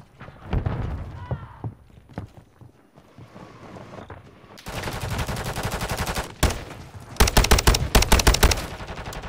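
Video game gunfire bursts out in sharp, loud shots, first scattered single rounds and then dense rapid volleys, with gameplay sounds in between.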